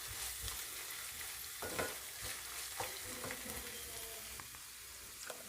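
Ginger garlic paste fries in a pan, a steady low sizzle running throughout with a spatula scraping and clicking against the metal as it is stirred.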